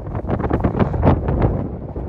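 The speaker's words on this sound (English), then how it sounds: "It's windy today." Gusty wind buffets the microphone in a steady rough roar, rising and falling slightly over a couple of seconds.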